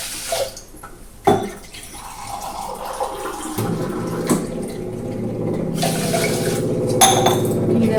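Millets being washed in water in a vessel, with sloshing, swishing and pouring sounds growing steadier and louder, punctuated by a few sharp knocks of the container.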